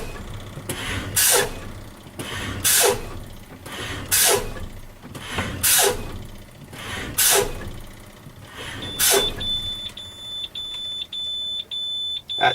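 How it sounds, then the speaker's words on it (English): Truck air service brake pumped repeatedly during an air brake inspection: seven loud hissing bursts about every 1.5 seconds, then a steady electronic low-air warning buzzer sounding alone. "I'm going to pump my service brake until I hear my buzzard and I see my light"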